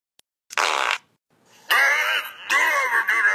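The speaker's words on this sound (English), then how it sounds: "Next time, fart in Batman's face." Three cartoonish fart sound effects, one short burst followed by two longer, louder blasts, each with a buzzing, wheezy edge. The scene involves Lego superhero characters, with no talk over the sounds.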